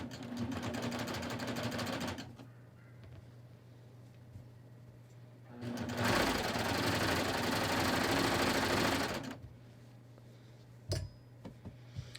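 Sewing machine hemming the leg of a pair of shorts under a skort, two loud bursts of fast stitching separated by a quiet pause, followed by a few faint clicks.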